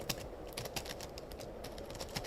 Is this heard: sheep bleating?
no